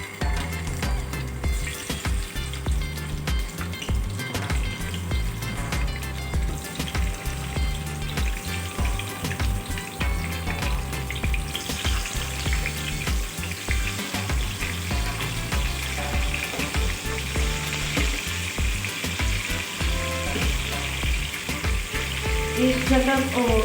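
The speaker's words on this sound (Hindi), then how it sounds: "अच्छा ये देखो अभी मछली में फ्राई करनी है।" Fish sizzles steadily as it fries in a pan for an Indian-style fish curry. The frying holds at an even, fairly loud level throughout, with no talking.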